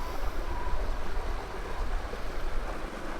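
Rushing water from a waterfall along a trail for 1/10-scale RC crawlers, a broad steady roar that fills the clip from start to finish at a constant loudness, with no voices.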